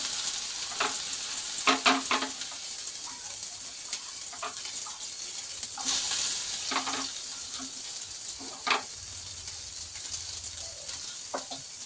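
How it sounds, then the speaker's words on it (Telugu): Eggplant fries in hot oil with a steady close sizzle, broken by intermittent stirring scrapes and clinks from a spoon in the pan, with no talk over it. "ఇవి వేయించుకున్నాం కదండి. ఆయిల్ మాడిపోతుంది."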